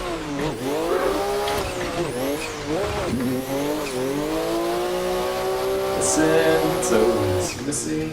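DCGP drift cars in the Assetto Corsa sim racing game screaming at high revs while sliding on a DCGP track, with engine pitch rising and falling and tires squealing through the skids, loud and continuous.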